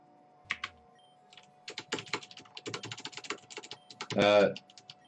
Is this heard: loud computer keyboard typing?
yes